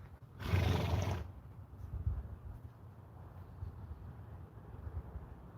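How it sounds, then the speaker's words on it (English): A horse lets out one loud, harsh screaming neigh lasting about a second, followed by quiet background rustle. "I've never gone up to a horse and then they scream at me."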